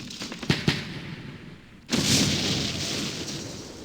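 Artillery shelling a police fortress in the Campaign Series Middle East war game: two sharp thuds early, a brief lull, then a loud sustained roar of firing and blasts.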